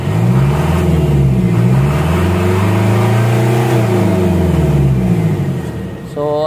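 An Isuzu Elf truck engine revs up close and loud, climbing to about 4,000 RPM, holding there, and then easing back down. It sounds like a single long rev.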